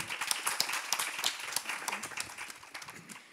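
Audience applause at a mobile developers' meetup panel, a moderate crowd clapping quickly and steadily, fairly quiet and distant, tapering off slightly near the end.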